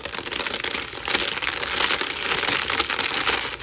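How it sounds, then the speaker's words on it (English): Old tracing paper that was wet and has dried crinkles and crackles continuously up close, a dry, brittle, dense rustling texture that stays loud and steady throughout. "paper that's old and has gotten wet and is dried and sounds like this"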